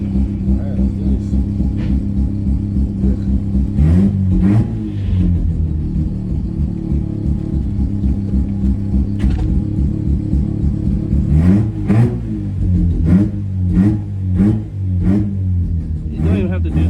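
Rotary-engine Mazda Miata revving in place, a low rumbling idle broken by several sharp throttle blips that rise and fall, loud and close, with a short burst of talk partway through.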